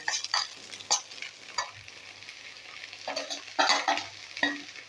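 Okra sabzi with added spices cooking in an open pan, a spoon scraping and stirring in irregular strokes over a soft, steady sizzle, close and moderately loud with no talking.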